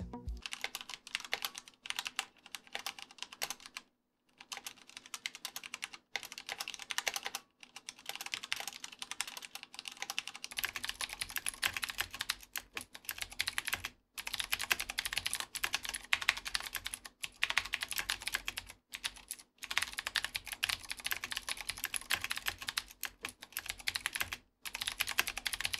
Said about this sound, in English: As you can hear, the red switches are very quiet compared to the blue ones.